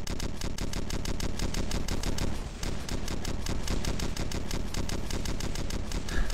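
Rapid, sustained gunfire from enemies firing at the player in the mobile shooter War Trigger 2, a dense run of close, loud automatic bursts with only a brief pause partway through.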